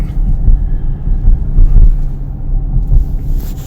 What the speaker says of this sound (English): I am not touching the gas. It just accelerates.